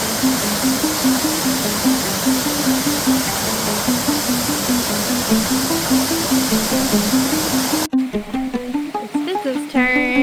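Little Bradley Falls near Saluda pours down onto a creek, a continuous, loud rushing hiss of falling water heard up close. It cuts off abruptly after about eight seconds into a quieter, tonal passage.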